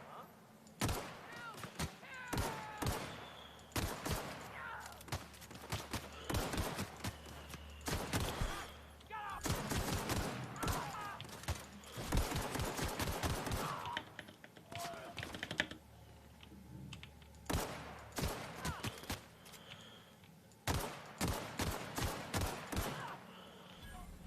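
Gunfire from a Marauder weapon in The Outer Worlds, rapid bursts of shots and clattering clicks repeating throughout, with talk over parts of it.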